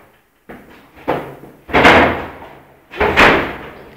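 An elevator door bangs repeatedly against a scooter being wedged inside, four heavy slams and thuds spaced about a second apart, loud and near with no talking.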